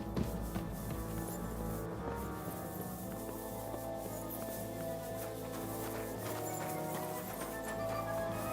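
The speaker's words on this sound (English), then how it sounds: "The horses are here." Horses arrive in a medieval Bohemian setting in Kingdom Come: Deliverance II, hooves clip-clopping steadily and fairly loud over continuous ambient music, with a faint whinny.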